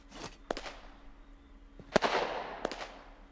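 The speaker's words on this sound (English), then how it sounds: "Also the explosion. Ooh, crackling." Crackling fireworks cake from a 30-shot heavyweight collection going off in the video game Fireworks Mania, with sharp bursts and a fizzing crackle trailing between them; a brief exclamation is heard once.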